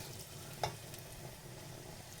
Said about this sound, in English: We'll drop in some chopped onions.